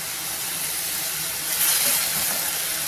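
Mushrooms with mint sautéing in a pan give a steady, fairly loud hiss that swells briefly midway, close by with no voices.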